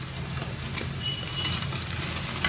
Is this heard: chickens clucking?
no